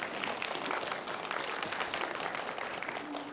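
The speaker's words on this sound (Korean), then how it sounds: "여러분 박수 부탁드리겠습니다" An audience at an education seminar applauds a newly introduced teacher, sustained, dense clapping from a room full of people that holds steady throughout, with no voices on top.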